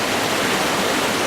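A creek rushes loudly on a hike toward Margarette Falls, a dense, steady roar of moving water close by with no voices.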